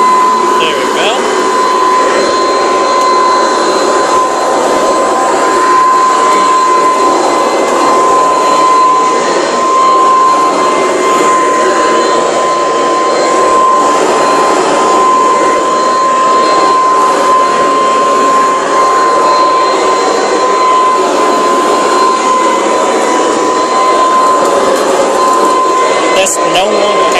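A Hoover Decade 800 vacuum cleaner runs steadily with a fitted replacement motor, a loud continuous whine with a strong tonal hum that holds unbroken from start to finish.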